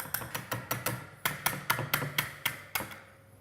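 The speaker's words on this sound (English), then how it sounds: "that will help you get the batter off the whisk then. Just tap it off." Pancake batter is knocked off a whisk with about a dozen quick, sharp taps against a bowl rim, coming in short irregular bursts and then stopping.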